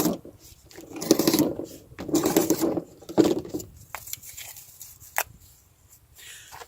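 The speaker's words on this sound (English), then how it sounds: "Let's grab some cardboard and let's show said utility cutting power." A Camillus Bombat knife slices through cardboard in several rasping, scraping strokes with short pauses between them, close and fairly quiet, with no talking.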